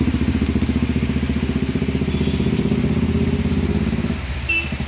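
A sporty RS or R15 motorcycle engine thrums steadily on a ride near Bannerghatta outside Bengaluru, a close, rapid pulsing rumble that holds evenly and eases slightly at the end.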